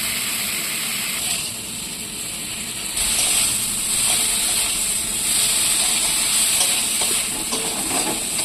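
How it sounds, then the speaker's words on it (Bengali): Prawns frying in mustard oil in a wok, a steady close hiss and sizzle of hot oil running throughout with small crackles, growing slightly louder partway through, with no talking. "দেখো চিংড়ি মাছটা আমি ভেজে নিচ্ছি।"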